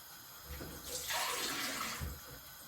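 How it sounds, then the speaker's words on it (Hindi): Water poured from two glasses into a cooking pot holding red chillies and cumin for a beef tail dish, a soft splashing pour that swells for about a second and then tapers off. "दो गिलास आपने पानी के ऐड करने हैं।"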